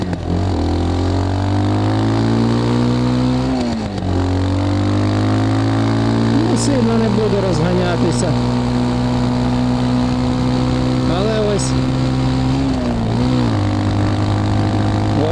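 A Geon X-Road light 250 motorcycle rides through city traffic, its engine droning loud and steady with gear shifts and shifting pitch, wind rush throughout.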